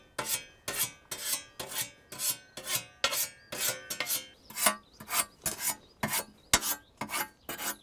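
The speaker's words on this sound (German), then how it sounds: "Auch wie man das Sensenblatt überhaupt schärft." A scythe blade is sharpened with steady, rasping strokes, about two per second, each a bright scraping sweep, loud and close with no talking.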